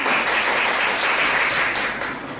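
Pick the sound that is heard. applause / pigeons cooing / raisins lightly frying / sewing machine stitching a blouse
applause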